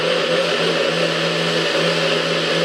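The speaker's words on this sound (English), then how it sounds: "Alright, now we're just going to mix it up, let it blend real well." Blender running steadily, mixing green goddess salad dressing with chopped chives, a continuous close motor whir with a droning hum, no pauses and no talk.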